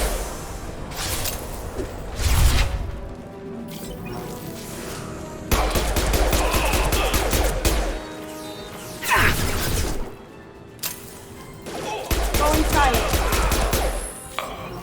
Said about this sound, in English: Firing an impact shot.